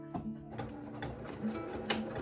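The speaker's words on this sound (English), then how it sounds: "I'm gonna start sewing in the same spot" A sewing machine stitches the lining of a fabric zipper bag in a rapid, steady mechanical patter, close and moderately loud, with no speech over it.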